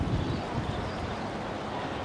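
Wintry wind gusting outdoors on a street, a steady, fairly faint rumbling roar of air buffeting the microphone for a couple of seconds, with no speech.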